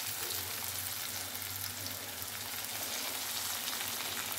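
Bitter gourd fries in a pan with an even, crackling sizzle that holds close and steady throughout, with no voices.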